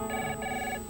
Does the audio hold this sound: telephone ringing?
yes